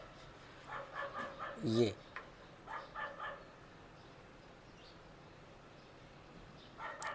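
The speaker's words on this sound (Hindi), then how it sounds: "छोटा सा कुत्ता है, बहुत ज़्यादा शोर मचा रखा है इसने।" A small dog in a town in Laos barks in a quick series of yaps near the start, then a few more barks and a last bark at the end, with someone talking throughout.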